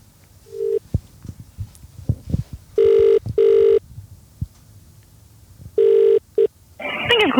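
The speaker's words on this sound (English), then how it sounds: "So bear with us. We're about to dial." Telephone call being placed: soft dialing clicks and taps, then a repeated two-pulse ringback tone heard twice with a pause between, ending as the line picks up with a brief noisy burst.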